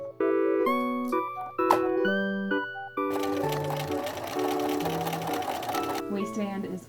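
A sewing machine stitches a waistband onto homemade shorts: close, rapid mechanical whirring in short bursts and longer runs, with brief pauses between.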